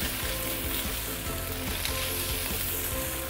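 Hokkien prawn noodles being stir-fried in a hot wok, a loud steady sizzle with faint scraping and tossing throughout.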